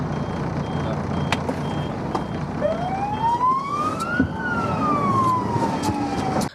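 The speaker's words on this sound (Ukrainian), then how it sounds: "водії реагують на спецтранспорт з увімкненими сигналами та сиреною" An emergency-service vehicle siren wails on a road, rising in one long sweep and then falling again, loud and fairly close over steady traffic rumble, with no talking.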